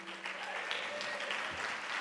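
An audience applauds speakers at a queer anti-militarism town hall, a steady wash of clapping that holds for the whole two seconds, fairly distant, with faint tonal voices or whistles mixed in.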